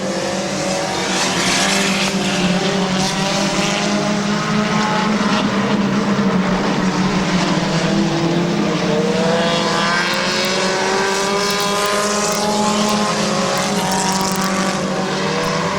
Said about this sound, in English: Cox on the inside, Ennis on the outside for the lead in this compact fast heat.